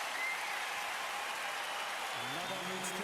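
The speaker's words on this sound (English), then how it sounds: "Again, the crowd rise to Nadal." Tennis crowd applauding Rafael Nadal during the 2011 US Open men's final against Novak Djokovic, a steady dense wash of clapping filling the stadium with no break.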